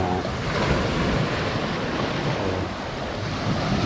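Continuous roar of large ocean surf with wind buffeting the microphone, a steady broadband wash of big crashing waves close by, no voices.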